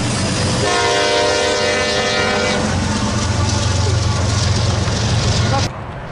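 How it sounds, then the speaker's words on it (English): A Norfolk Southern freight train with an Illinois Terminal heritage unit passes a road crossing. Its loud, close multi-tone horn sounds for about two seconds, then gives way to a heavy rolling rumble of the train going by. "we catch it passing through a road, and my first shave and a haircut"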